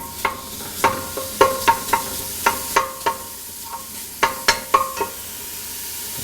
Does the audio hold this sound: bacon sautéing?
yes